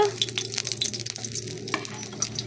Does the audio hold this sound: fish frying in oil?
yes